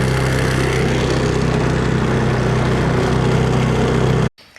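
A 1970 Johnson 9.5hp outboard motor runs rough on one cylinder, a loud, steady, close engine drone that holds for about four seconds and then cuts off abruptly.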